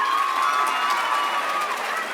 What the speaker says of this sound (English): Give them one more applause,